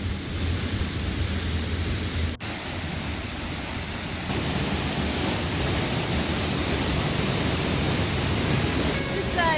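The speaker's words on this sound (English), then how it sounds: "I can definitely hear what sounds like a huge waterfall." A huge waterfall, about 70 feet high, pours into a small cave-like hollow on a creek, producing a steady, dense roar that fills the whole clip and swells louder partway through, with no voices.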